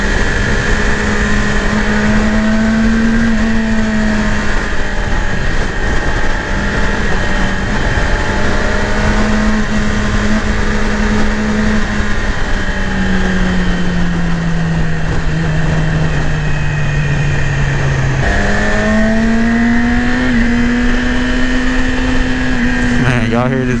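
A 2018 Yamaha YZF-R6 sport motorcycle engine drones loudly and continuously while riding, its pitch rising and falling with throttle changes, with wind rush underneath.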